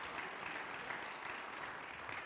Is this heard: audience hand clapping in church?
yes